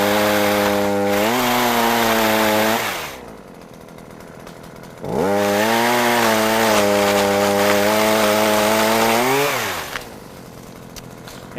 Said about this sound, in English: there you have it, pole chainsaw